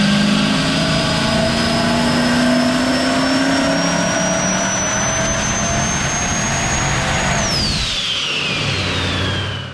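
A turbocharged 383 stroker small-block engine on a dyno gives a loud, sustained roar holding steady at high revs, then the pitch drops sharply as the throttle is cut and the engine winds down near the end.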